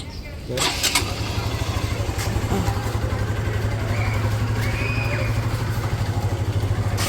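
A motorcycle engine cranks and catches, then settles into a steady, close throbbing idle that runs to the end.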